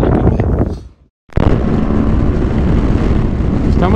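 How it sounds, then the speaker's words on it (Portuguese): Hot wind buffets a rider on a BMW GS 1200 motorcycle in 42-degree heat, a loud rushing roar that cuts out briefly and then returns steady and strong. "O vento tá quente, tá batendo,"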